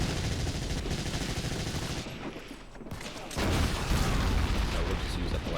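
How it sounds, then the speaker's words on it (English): Gunfire from the player's weapon in the Medal of Honor: European Assault video game, dense rapid bursts of shots running almost continuously, briefly dropping out in the middle before resuming louder. "So we'll just use up the last of the ammo on this poor guy there"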